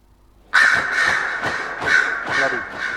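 Crows caw in Dragon Age: Inquisition: a sudden burst of loud, harsh, repeated calls, about five or six rasping caws in quick succession, close and prominent.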